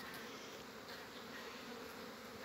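Honeybees from the hive buzz in a faint, steady drone on their first flight of the year, continuous and distant with no voices.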